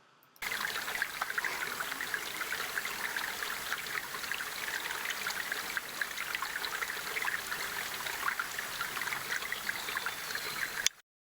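A stream on the Kokoda Track, where the route crosses creeks and follows creek beds, flows as a steady, close rush and trickle of water that starts abruptly and runs without a break for about ten seconds.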